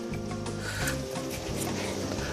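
A knife scrapes and rubs steadily through a thick fat cap as picanha beef is trimmed for barbecue. The rasping strokes are close and continuous, with no talk.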